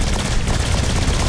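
Sustained rapid SMG gunfire in Saints Row IV, a dense continuous burst of shots filling the whole stretch at steady loudness with no pauses.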